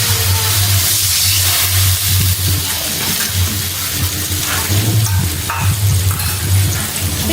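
Ground spice paste being sautéed with a splash of water in a pan for Bengali egg masala, a loud continuous sizzle with stirring scrapes and a low hum underneath.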